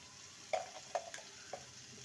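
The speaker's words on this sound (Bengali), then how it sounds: "ভালো করে কষিয়ে নেব মশলা" Spices and cauliflower being sautéed in a pan, heard as a faint low sizzle with three or four soft clicks of a spoon stirring against the pan, quiet and brief.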